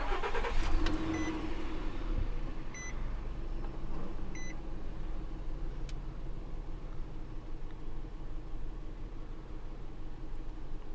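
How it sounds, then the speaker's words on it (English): A 2006 Nissan Xterra starts up amid a few chimes and beeps, then its engine settles into a low, steady idle rumble heard up close from inside the cabin. "So let's go ahead and start the car."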